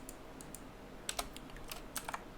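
Faint, close clicking of computer keyboard keys, a few scattered taps followed by quicker bursts of typing, with no one speaking.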